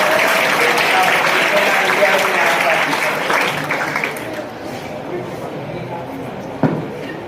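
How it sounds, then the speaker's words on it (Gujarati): Loud applause from a seminar audience for a student, dense and sustained at first, then thinning and fading toward the end, with a voice briefly talking over it. "જોરદાર તાળીઓ પાડો આ વિદ્યાર્થી માટે"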